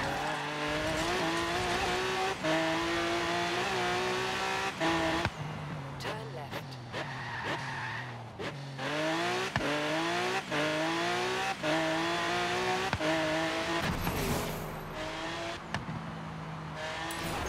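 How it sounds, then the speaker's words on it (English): A 2011 Lamborghini Gallardo LP 570-4 Superleggera in Forza Horizon 3 pulls through repeated gear changes, its loud exhaust rising in pitch, dropping and climbing again, with brief tire squeals and occasional talk mixed in. "Let's see how noisy this exhaust can actually be."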